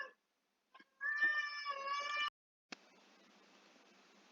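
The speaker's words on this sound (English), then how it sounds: "That was my cat." A house cat lets out a short chirp and then one drawn-out meow indoors, close and clear against a quiet room. A soft rustling noise follows after a brief pause.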